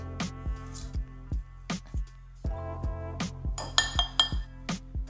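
A whisk clinks against a glass bowl in a string of sharp, ringing taps near the mic, with a short cluster of lighter rattles toward the end and no talking.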